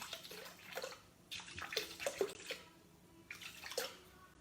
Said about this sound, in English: So putting in the water, 500 grams, and what we're going to do now is called a cold wash.